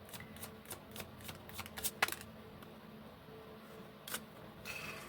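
Tarot cards being shuffled nearby in a quiet room, a string of soft riffling flicks and taps with a sharper burst of snapping cards in the middle, then a few scattered flutters.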